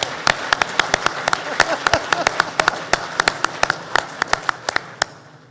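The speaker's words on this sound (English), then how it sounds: "I think they deserve a round of applause." An audience at a grassland farming conference claps, with sparse, crisp individual claps at an uneven rhythm rather than a dense ovation.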